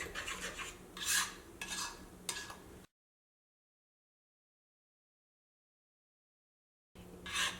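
Instant idli batter is stirred in a bowl with soft scraping and clicking strokes for a few seconds. A long silent gap follows, and then the mixing resumes briefly, all fairly quiet.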